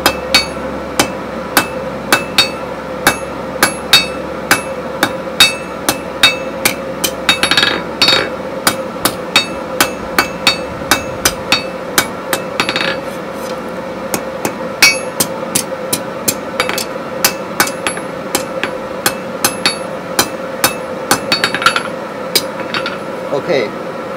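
Rebar hammer-forged into an arrowhead on an anvil, squaring the stock and knocking off the corners: a long run of loud, close metallic strikes in quick, uneven bursts over a steady hum.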